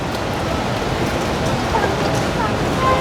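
Rain falls steadily in a dense, even hiss with a soft pattering texture, continuous and fairly close throughout.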